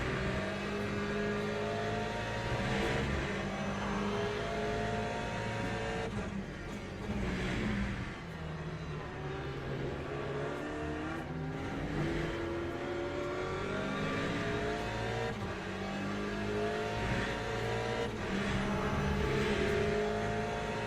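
Hypercar engines howl past on the Silverstone circuit in a WEC endurance racing game, a continuous dense roar of revving and shifting pitches with cars sweeping by near and loud, no talk over it.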